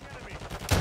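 Rapid gunfire crackles in the video game Call of Duty Warzone, a quick burst of shots ending in a louder blast, brief and close with no speech over it.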